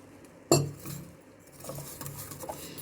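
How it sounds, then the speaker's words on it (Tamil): A spoon clinks against a metal bowl as a little water is stirred into oil and spice mix for raw banana fry, with one sharp knock followed by soft, quiet scraping and stirring. "தண்ணி கொஞ்சமாக தண்ணி மிக்ஸ் பண்ணுறோம்."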